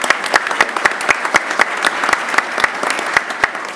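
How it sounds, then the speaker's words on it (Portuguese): An audience at a financial conference in London applauds, with clear individual claps standing out in a fairly steady rhythm, close and moderately loud, with a faint murmur beneath. "Queria só pedir uma salva de palmas ao Pablo Hernández"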